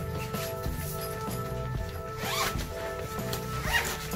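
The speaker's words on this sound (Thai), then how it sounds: "จะมีซิปด้านหน้าข้างในนะครับ" A zipper on the front vent of a hiking camping tent is drawn along its track in a few close, raspy strokes over low background music.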